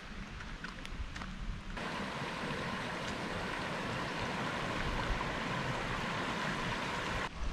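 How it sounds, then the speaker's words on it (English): Water rushes steadily in the main creek beside the Clear Fork Trail in Lockhart State Park, a continuous close broadband flow that holds even and uninterrupted for several seconds. "right along the main creek in the park"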